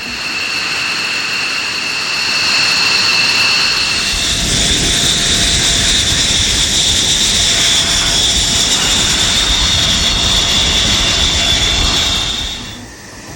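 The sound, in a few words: F-16 fighter jet flying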